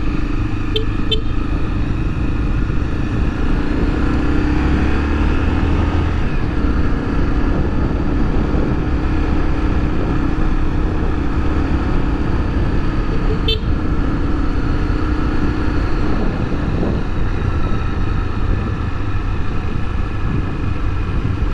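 A Honda XRE300 motorcycle engine running steadily at a constant drone with low rumble and wind roar, as if riding along a road, with a couple of faint clicks and no talk.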